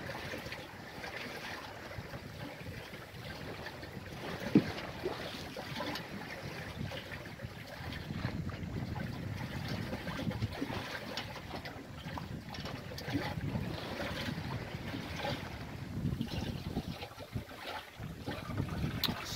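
A sailboat under Hebridean self-steering glides along in very light wind at sunset, giving a steady, soft wash of water and breeze with faint creaks and one brief knock, and no voices.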